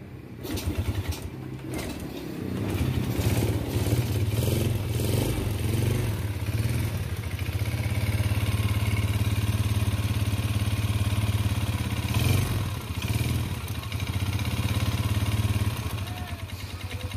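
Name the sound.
motorcycle engine started, running rough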